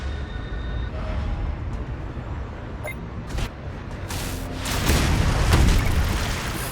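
Ships open fire in the Anno 2205 strategy game's Arctic sector, a few deep booms and rumbling blasts swelling over a steady low game ambience near the end.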